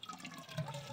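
Water overflowing from a clogged drain makes a faint, continuous trickling and gurgling that holds steady throughout.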